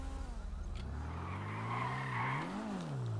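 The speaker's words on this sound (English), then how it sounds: "The sound of this car is crazy." A revving sports car engine in a video game, a Maibatsu Penumbra FF, rises and falls in pitch while tires squeal, loud and close, with no talking.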